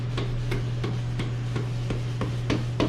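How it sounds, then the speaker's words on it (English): A rubber hammer strikes the rear wheel axle of a 2014 Honda Shadow Aero VT750 motorcycle during rear tire removal, giving about ten sharp, evenly spaced knocks, close and fairly loud, over a steady low hum. "I'm gonna take my rubber hammer and I'm gonna hit it from this side"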